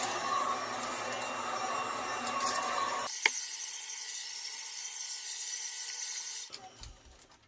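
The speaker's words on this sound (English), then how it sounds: "I've got my heat gun here, and I'm just going to put this on a low heat and gently bathe it in some heat" A heat gun set to low blows steadily over plastic shrinkwrap on a Jurassic Park Colorforms toy box, a close, loud, continuous airy roar whose tone shifts partway through before it cuts off near the end.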